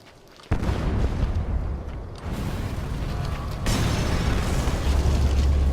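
An explosion in Metal Gear Solid V hits suddenly as a loud boom and then rumbles on with crackling debris, swelling again partway through.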